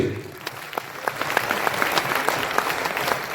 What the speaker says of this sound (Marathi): टाळ्या कशा वाजवायच्या डोक्याच्या वरती हात घेऊन वन टू थ्री